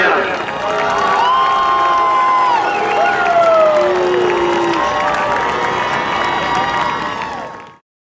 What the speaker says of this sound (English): Give a nice round of applause, everybody.